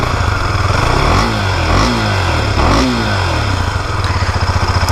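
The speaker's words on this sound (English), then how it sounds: "the exhaust note also, it is quite different from the KTM. It is more bassy" A Husqvarna Svartpilen 250 motorcycle idles and revs with a deep, bassy exhaust note, loud and close, swelling in a few short throttle blips over a constant rumble.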